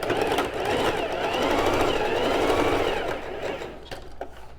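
A sewing machine runs close and steady, stitching a seam at the front corner of a flared skirt, a continuous whirring buzz that slows and stops near the end.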